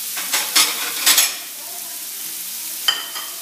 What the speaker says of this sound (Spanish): Estamos cocinando nuestro tocino